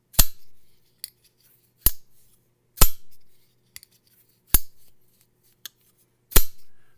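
A Tuyaknives Hive V3 folding knife flips open six times at irregular intervals, each a sharp, close metallic snap with a brief ringing tail, alone against silence.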